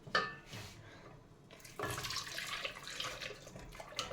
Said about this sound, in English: looks like my butter is melted. So let's go ahead and we're going to pour this in.